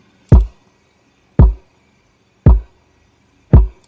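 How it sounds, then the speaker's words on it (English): An Afrobeat kick drum sample thumps four times at a steady, evenly spaced pace, each hit punchy and loud with a short decay and silence in between. "Then we have our kick."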